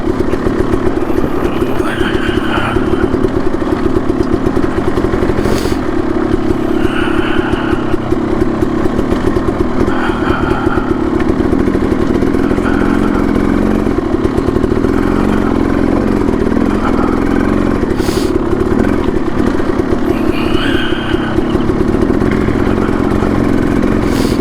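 Two dirt bikes, a KTM 300XC two-stroke and a Yamaha YZ 450FX, idle loudly and steadily up close on a mountain trail ride, with occasional revs and mechanical clatter.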